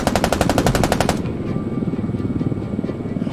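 A CH-146 helicopter door gunner fires a rapid machine-gun burst in the game Squad, a loud fast stream of shots lasting about a second, then the helicopter's rotor thump and engine drone continue.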